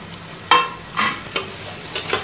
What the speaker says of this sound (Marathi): मस्त हे सर्व मिश्रण आपण मिक्स करून घेऊ